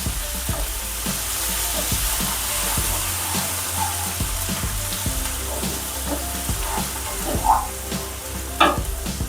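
Garlic, green chili and ginger paste with asafoetida sizzling in a pan for a brinjal and pigeon pea curry, a continuous fry hiss broken by regular spoon stirs and taps against the metal.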